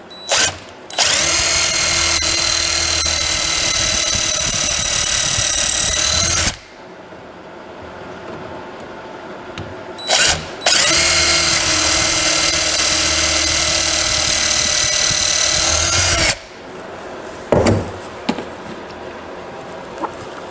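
A power drill drives beech dowels into the slats of a teak potter's bench under restoration, two long, loud whining runs of several seconds each, separated by quiet pauses and brief clicks.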